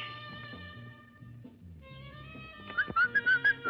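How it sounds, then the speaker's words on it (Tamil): A person in the audience at a dance performance whistles in several loud, sharp bursts near the end, over music playing in the background. "விசில் அடிச்சாரு"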